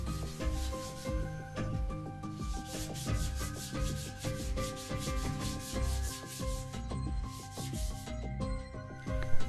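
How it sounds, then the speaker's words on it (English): Sandpaper rubs back and forth over a wooden carving in steady, rhythmic strokes, a close, scratchy hiss that repeats evenly throughout with no voices. "I'll sand the entire piece over and over with different grits of sandpaper until I've reached the finish that I desire."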